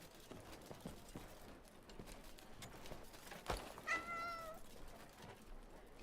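Cat meowing in the video game Crimson Desert: a single short, rising meow stands out clearly over a soft game background with faint hoof clatter.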